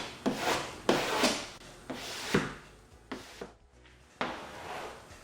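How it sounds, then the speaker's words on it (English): A squeegee rubs in repeated firm strokes over a vinyl rally stripe on the hood of a 2010 Chevrolet Camaro, each pass a close, dry scraping swish with short pauses between. "We squeegee out the front."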